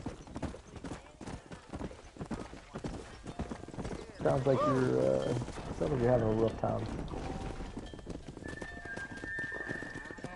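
Horse hooves clip-clop steadily in Red Dead Redemption, broken by two loud, close neighs in the middle, while someone talks over the game sounds.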